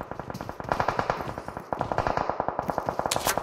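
Rapid automatic gunfire from the BGMI battle royale mobile game, loud and close, rattling in fast steady bursts for the whole stretch with a short pause midway and no talk over it.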